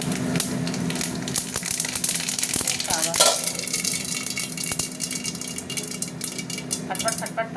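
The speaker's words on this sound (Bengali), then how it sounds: "ফাটফাট ফাটফাট ফাটফাট সর্ষে ফাটে তো" Whole mustard seeds crackle in hot oil in a heated kadai with a cut dried red chilli, giving sharp scattered pops over a steady sizzle, along with an occasional clink of a utensil; a voice talks faintly in the background.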